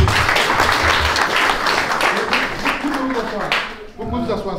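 A church congregation applauds in a steady, dense burst of clapping, loud and close, with voices mixed in before it fades near the end.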